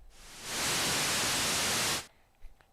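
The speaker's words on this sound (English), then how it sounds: "And then we have a noise." Noise waveform from a synthesizer oscillator: a dense, steady hiss of pink-white noise that swells in and holds for about a second and a half, then cuts off abruptly, leaving faint background sounds.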